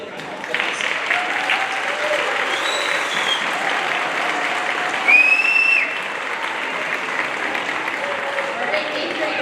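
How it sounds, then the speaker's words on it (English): Audience applause at a middle school spring orchestra concert, a sustained loud crowd clapping that fills the whole stretch, with a few faint voices and whoops rising briefly through it. "let's give Mr. Botwinski another round of applause."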